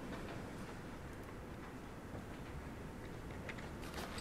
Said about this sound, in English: You reverse slowly and quietly out.